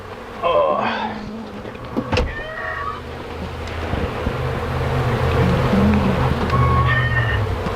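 Honey bees drone in a dense buzzing swarm during removal of a hive from a shed, close and loud, with intermittent handling noises and knocks on top.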